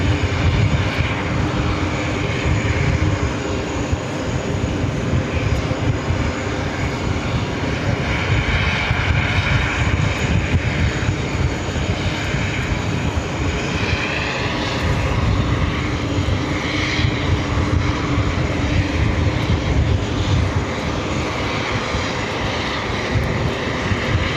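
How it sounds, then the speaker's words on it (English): An Emirates Airbus A380 rolls for takeoff on runway 13R at JFK, its four engines giving a loud, steady, continuous roar with broadband rumble throughout, near and dominant, without talk. "Emirates A380 Super up next for takeoff. Already rolling down to 13 right."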